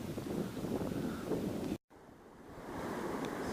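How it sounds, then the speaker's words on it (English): A headwind blows across a lake during a canoe trip, roaring steadily against the microphone with a rushing, wave-like whoosh, broken by a brief dropout of silence before the gusting resumes. "There's a nice headwind blowing."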